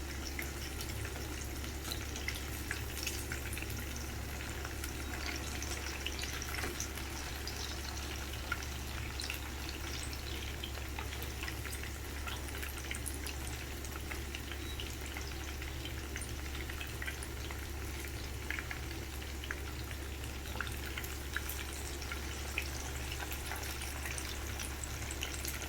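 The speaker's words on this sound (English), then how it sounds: "Fry on each side for 2 to 3 minutes, or until the coating is well cooked." Coated mutton or beef pieces frying in oil in a pan, a steady low sizzle and bubbling that continues unbroken throughout.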